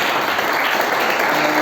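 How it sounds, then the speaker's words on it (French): A church congregation applauds their pastor with dense, steady clapping that fills the room at full volume for the whole moment. "on peut quand même acclamer sur notre papa"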